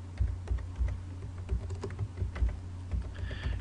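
Rapid clicking of a computer keyboard as a new folder name is typed on a desktop, a steady run of close, light keystrokes with no talking.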